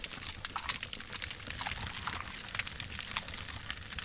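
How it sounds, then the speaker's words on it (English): Water trickles and splashes steadily as a character drinks clean water in the survival game No One Survived, a soft continuous liquid pour with no talking. "we'll drink some of the clean water"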